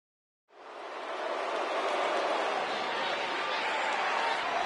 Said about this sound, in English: The crowd is buzzing with excitement.